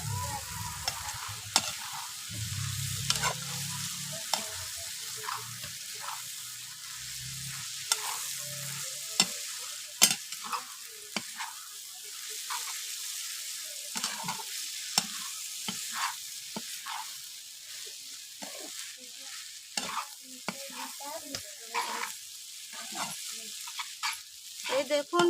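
Boiled chow mein noodles for chicken chow mein being stirred and fried in a pan, with a steady sizzle and repeated clattering scrapes of the utensil throughout, plus a low rumble early on.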